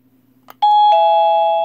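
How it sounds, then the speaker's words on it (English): A short click of a wireless push button, then a loud electronic plug-in doorbell chime rings out in two bright tones that sustain and slowly fade. "press it and the doorbell rings"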